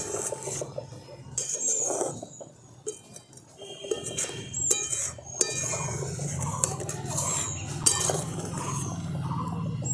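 Raw mango pickle being stirred together with turmeric and chilli powder in a bowl, with soft, irregular clinks and scrapes close by under a steady background hum, and no talking.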